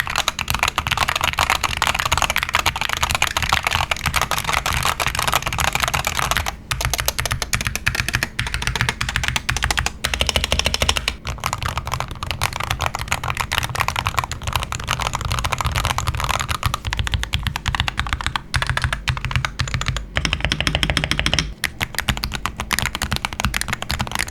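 Steady, dense typing on Wooting 60HE and 80HE gaming keyboards, including an 80HE in a PCR Ghost case and a zinc alloy case, with fast continuous keystrokes close to the microphone and a few brief pauses.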